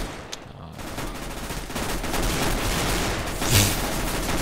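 Rapid gunfire from Desert Eagle pistols in Counter-Strike on de_inferno during an esports match, dense overlapping shots filling the whole stretch with a louder burst near the end.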